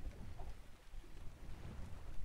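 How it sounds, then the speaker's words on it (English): Storm rain and low thunder rumble in the Ark video game, a steady faint hiss of rainfall with muffled low booms underneath, brief and quiet. "storm again"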